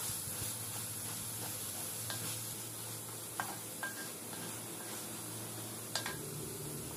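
Carrots stirred into a hot pan of sautéing vegetables, a steady low sizzle with a few light scrapes and clinks of the spatula against the pan, no voices.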